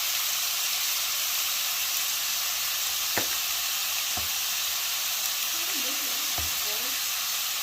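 Steak sizzling steadily in a skillet with butter and seasoning, a constant loud fry hiss throughout with a few sharp utensil taps near the end.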